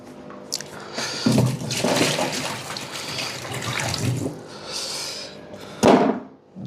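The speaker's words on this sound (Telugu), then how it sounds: "ఇప్పుడు ఈ వాటర్ తీసుకొని వెళ్ళి మన హల్క్ గాడికి పోసేద్దాం." Water poured from a container over a dog, splashing in bursts with a sharp slosh near the end, close and fairly loud amid soft background noise.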